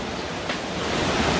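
Water crashing down like a waterfall inside Hwanseon Cave, a dense, continuous roar that booms close by and swells slightly toward the end, with no voices.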